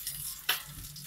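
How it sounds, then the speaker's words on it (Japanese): Ground chicken isobe rolls wrapped in nori fry in a pan with a steady soft crackle and sizzle, plus a brief louder clatter midway, close and with no talk. "これパチパチ言ってきたので、裏返します"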